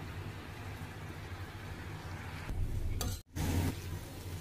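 Leafy greens (shak bhaji) sizzling and frying in oil in a pan, a steady soft crackling hiss that swells louder near the end with a brief stir and a momentary break.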